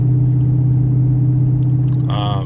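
A Dodge Charger R/T with a 5.7 Hemi V8 gives a deep, steady close-up engine rumble at idle, with a brief rise in pitch near the end.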